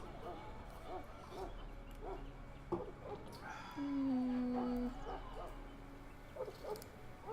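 A Mabari war hound in Dragon Age: Origins gives a sustained howling bark amid game sounds, with people talking around it.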